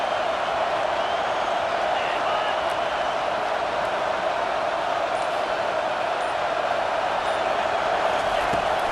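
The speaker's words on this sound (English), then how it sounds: "And the crowd really making some noise now" Roaring stadium crowd noise from the College Football 25 video game, a dense steady wash of cheering and yelling that fills the scene evenly and loudly throughout without a break.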